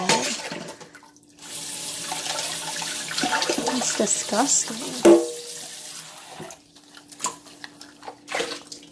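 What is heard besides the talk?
running tap water while washing dishes in sink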